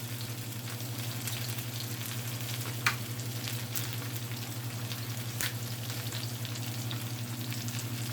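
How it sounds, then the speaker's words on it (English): Sliced onions sautéing with Italian seasoning in a pan, a steady, even sizzle that runs the whole time, with a low hum underneath and a couple of faint clicks. "we're just going to saute them onions until they get a nice golden brown"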